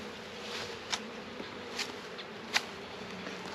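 Honeybees buzzing during a beehive inspection, a close steady hum with a few individual bees zipping past louder, no talking.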